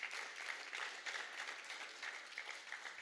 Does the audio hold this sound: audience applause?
yes